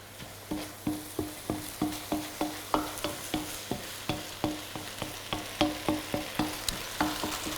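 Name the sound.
Korean potato starch noodles cooking down in sauce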